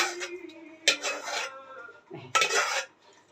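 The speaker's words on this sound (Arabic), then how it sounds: "دلوقتي إحنا هنحط الرز اللي اتسلق في المية أهي" Boiled rice tipped into a pot of two kilos of milk, giving bursts of scraping and clattering against the pot in two or three loud pulses with quieter handling between.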